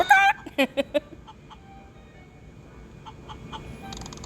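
A chicken in the Wizards Unite game gives a quick run of loud clucks near the start, then fainter scattered clucks over quiet background later on.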